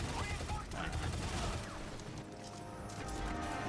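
Rapid gunfire from spam shooting in the 2009 game Shadow Complex Remastered, a dense continuous burst of shots filling the whole stretch at moderate loudness.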